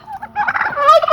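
Turkeys gobble in a loud, warbling burst, several birds calling over each other at close range.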